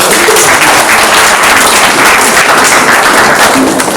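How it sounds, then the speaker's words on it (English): An audience gives a round of applause for grade 5 students at a school celebration of learning, a dense, steady roar of clapping hands that fills the whole stretch loudly and evenly. "Let's give them a really big round of applause."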